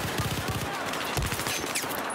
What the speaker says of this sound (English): I'm getting shot from both ends